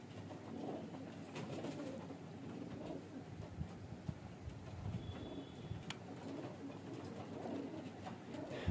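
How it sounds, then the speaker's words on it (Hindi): Highflyer baby pigeons coo softly, the low murmuring calls faint and intermittent over quiet background noise, with no talk. "2 पार टेस्टेड कबूतर के बच्चे हैं"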